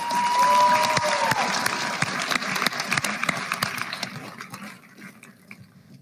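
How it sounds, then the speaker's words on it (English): Graduation ceremony crowd clapping and applauding at a high school commencement, a loud, full round that tapers off toward the end, with a brief whistle at the start. "Graduates, please give your loved ones a round of applause and thanks for all their support."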